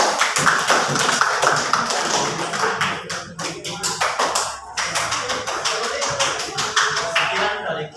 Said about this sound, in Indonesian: Ya, kita beri aplaus untuk kelompok Dias.